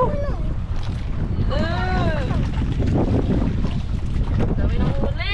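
Strong wind buffets the microphone with a constant roar over open water, while voices shout and call out over the gusts.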